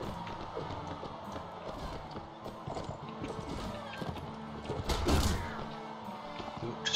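Horse hooves clip-clop in a rapid, uneven gallop rhythm in the medieval combat game Mount and Blade, close and continuous, with clanks and battle noise mixed in.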